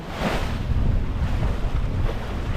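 A sailboat moves at six to eight knots in a ten to fifteen knot breeze on Tampa Bay, with steady wind buffeting the microphone over a rushing wash of waves against the hull.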